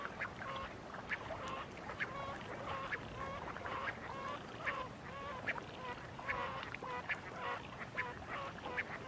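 Giant coots call repeatedly in a high-altitude lakeside setting, a series of honking, duck-like notes in an irregular rhythm over steady background wind, moderately close and fairly loud.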